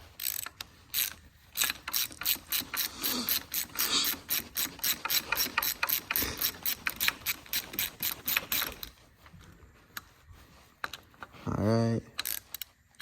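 A hand ratchet clicks rapidly in repeated bursts while loosening a bolt on the transmission of a 1971 Ford F100, a close, crisp run of pawl clicks. It pauses near the end, followed by a brief metallic clatter.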